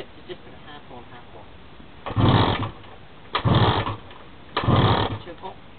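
A chopper motorcycle's engine is kick-started and catches in three short, loud sputtering bursts separated by quiet pauses, each burst roughly half a second long.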